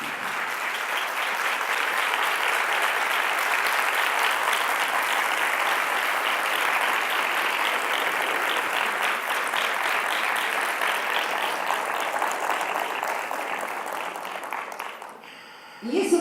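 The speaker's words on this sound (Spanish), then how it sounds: "Y es un merecido aplauso." A conference audience at CIP 2019 in San Juan, Argentina, gives a dense, sustained round of applause for about fifteen seconds, steady and full before tapering off, with a brief clatter at the end.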